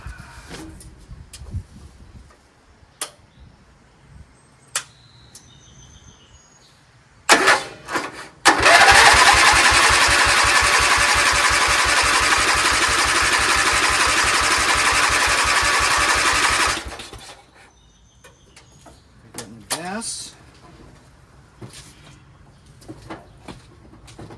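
A free Dayton 11 HP lawn tractor, an old hauler with oil inside it, cranks briefly and then catches. Its small engine runs loudly and steadily for about nine seconds before it cuts off, with handling noises before and after.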